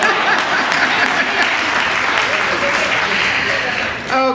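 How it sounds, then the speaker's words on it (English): Audience in a room applauding, dense sustained clapping from many hands that stays loud and even throughout, easing slightly near the end. "Now let's applaud everybody who was honest in the room"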